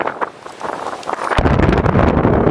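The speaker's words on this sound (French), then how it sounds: "le vent, je vais me faire voler ma casquette" Wind buffets the microphone outdoors at Châtelet near Charleroi, Belgium, light at first, then a sudden loud roaring gust that stays strong to the end.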